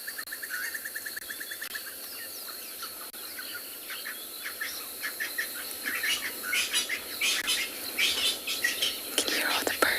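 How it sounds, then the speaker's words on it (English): Birds singing after the rain on a sunset safari, a mix of repeated chirps and calls at varying distances over a faint insect hum, growing busier and louder toward the end, with soft whispered talk. "Can you hear all the birds? All the birds are very, very happy that the rain has stopped."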